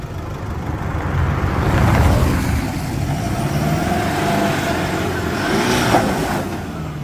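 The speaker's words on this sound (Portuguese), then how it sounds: "engata 4x4, ligou a luz do painel, coloca a primeira. E vamos lá, vamos tentar sair desse obstáculo agora." Toyota Hilux in 4x4 first gear working to climb over an off-road obstacle, its engine droning and rising steadily up close, with the load building and easing over several seconds.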